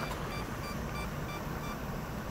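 A camera's two-second self-timer gives a rapid series of faint, evenly spaced beeps against steady outdoor park background noise.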